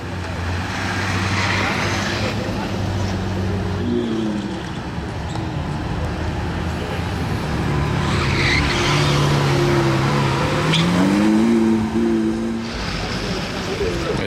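Supercars pass by at night on a Monaco street: engines rise and fall in pitch as cars approach and accelerate past, loud and close. Someone talks over the engine noise.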